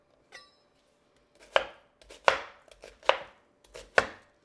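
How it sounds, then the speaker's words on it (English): A knife slices through a lemon on a cutting board, with about six crisp chops landing at an uneven pace and firm thuds into the board, close and clear in a quiet kitchen. "So first we're gonna slice our lemon"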